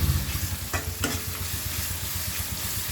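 A tomato mixture with salt and turmeric is stirred in a hot pan, giving a steady close sizzle with two sharp spoon-scrape clicks early on and a low hum beneath.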